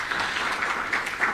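Brief burst of steady audience applause in a hall at a sanitation and waste management event, a dense patter of many clapping hands at moderate volume, with no speech over it.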